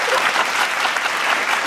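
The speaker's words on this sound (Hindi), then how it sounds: "प्रचार में व्यंग समझ में आ जाए तो तालियां बजाना" An audience at a Hindi comic poetry gathering in Ahmedabad breaks into loud, dense applause, a continuous even roar of many hands clapping with no speech on top.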